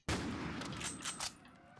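A single gunshot from Black Ops 3 Custom Zombies cracks sharply, then a short noisy tail and faint rumble trail off quickly. The whole shot is quiet and lasts under two seconds.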